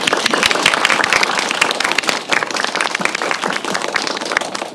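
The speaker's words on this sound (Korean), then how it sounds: "다시 한번 큰 박수로 환영합니다" Sustained, dense applause from a film-screening audience welcoming an actress at a Q&A event, steady and close throughout with no speech.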